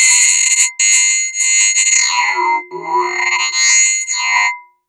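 A hi-hat run through a resonator bank tuned to C becomes a bright, ringing metallic drone with several sustained resonant tones, swelling and dipping in short phrases before fading out.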